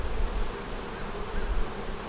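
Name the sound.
honey bees buzzing on a hive frame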